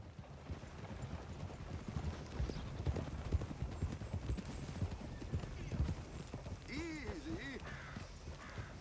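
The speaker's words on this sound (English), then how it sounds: "You take good care of your horse" Horse hooves clip-clopping steadily on a road in the game Red Dead Redemption 2, a continuous close rhythmic trot with a brief neigh near the end, faint voices talking underneath.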